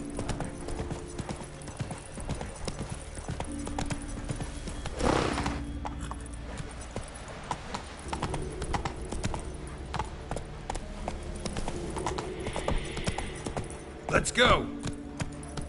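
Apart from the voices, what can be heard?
horse Roach galloping, hooves, from video game The Witcher 3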